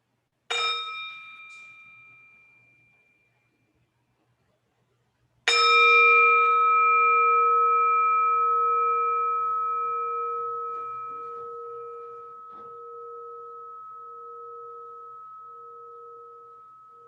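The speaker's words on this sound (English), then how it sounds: "Let's have a sound of the bell and come back to our breathing." Two strikes of a meditation bell during a Buddhist dharma talk: a short ring that fades, then a second, louder strike that hums and lingers for a long time.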